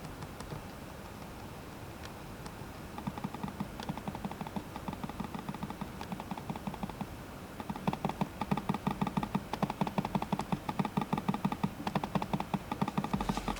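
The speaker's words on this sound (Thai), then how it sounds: "เสียงการคลิกเสียงการกดมันจะมีความคล้ายๆกับเวลาเราใช้เมาส์ไร้เสียง" Rapid, muted clicks from a quiet Logitech mouse, pressed repeatedly in a quick, steady rhythm that gets denser and slightly louder toward the end.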